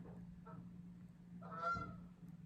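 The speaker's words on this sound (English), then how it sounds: "Did you hear the geese?" Geese honking as they fly right past a window, a few faint, distant calls: a short honk, then a louder cluster of two or three overlapping honks over a low steady hum.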